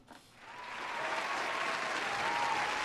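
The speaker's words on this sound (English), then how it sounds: "Can we get a round of applause, chat?" Applause swells quickly from quiet into a steady, dense clapping that holds at full strength until the end.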